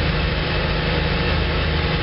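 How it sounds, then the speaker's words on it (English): A 1986 GMC Blue Bird bus engine with a rebuilt carburetor idles steadily after a cold start, a loud, continuous low rumble with a throbbing rhythm and no talk over it. "Engine's starting to warm up."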